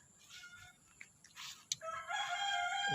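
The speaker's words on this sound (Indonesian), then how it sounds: "di sini tuh cuman dengar suara burung, suara ayam" A rooster crows in the distance in a village, its drawn-out call rising at the end, with other faint bird sounds and light rustling before it.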